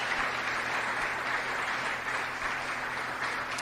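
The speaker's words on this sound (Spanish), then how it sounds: "un aplauso para el Señor Jesús." Sustained applause from a church congregation, a dense, even clatter of many hands clapping continuously at moderate loudness, without speech.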